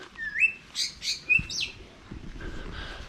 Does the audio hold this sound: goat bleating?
no